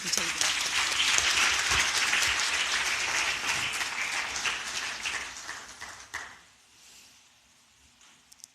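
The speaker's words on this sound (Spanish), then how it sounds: "Dele un aplauso al Señor." A church congregation bursts into sustained applause, dense clapping filling the room for about six seconds with some voices mixed in, then dying away into a quieter tail.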